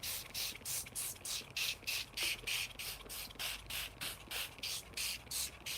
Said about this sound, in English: I'm going to pre-treat it with a spray